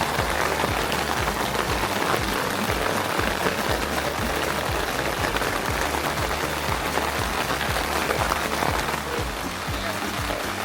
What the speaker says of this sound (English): Starts raining.